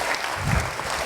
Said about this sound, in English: So a very big round of applause for Dr.